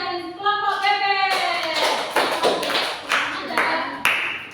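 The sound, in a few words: class applauding a student presentation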